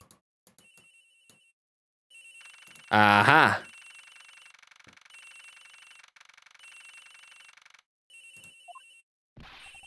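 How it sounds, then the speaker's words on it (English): In the Ace Attorney Investigations video game, an electronic phone ringtone chirps in repeated bursts with short gaps, interrupted by a loud game sound effect and a brief spoken exclamation. "The ringing's coming from somewhere in here"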